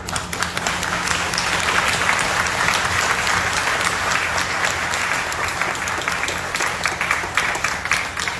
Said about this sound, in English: You're clapping for yourselves, not for me.